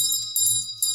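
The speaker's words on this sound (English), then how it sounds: "When you hear the bell, you shout, pop shop." Shop bell ringing in a bright repeated chime, three quick rings close together in a short burst, with no talking.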